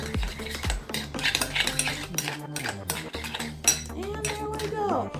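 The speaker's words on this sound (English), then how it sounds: "And I'll close it, and then I'll stir some more." Deviled egg filling with bacon bits stirred in a bowl: a spoon clinks and scrapes against the sides in a quick, busy rhythm, close and fairly loud, over a faint tonal background.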